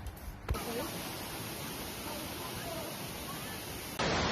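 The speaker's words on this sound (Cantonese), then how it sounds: "一過咗萬德苑就會見到個瀑布池，沿住樓梯一路上，第一個點就會去到井底瀑。" The Ng Tung Chai waterfall in Hong Kong pours steadily, a dense broadband rush of falling water heard close and constant, with a sudden loud bump and a shift in tone near the end.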